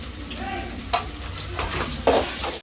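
Onions and ginger garlic paste fry in a pan for chicken thokku, a loud, close sizzle with vigorous stirring and a couple of sharp spatula clanks.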